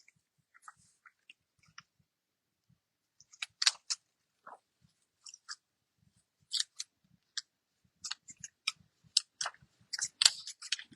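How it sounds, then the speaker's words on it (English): Scissors snip through paper in short, irregular cuts as a leaf shape is trimmed off its paper circle, close and crisp with quiet gaps and no talk. "I'm going to cut it off the circle."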